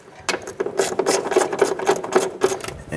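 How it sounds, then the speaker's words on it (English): Bolts are run in by hand with a ratchet on the upper ball joint of a 2008-2012 Honda Accord, giving rapid close clicking pawl sounds in a steady rhythm. "we're gonna go ahead and run our bolts in"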